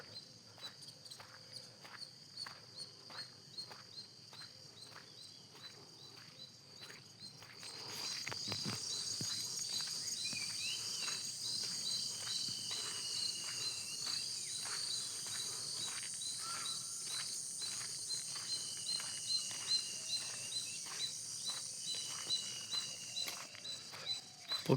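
Birds give short whistled calls outdoors, a few scattered and fairly distant, over a steady dense chorus of crickets and insects, with no voices.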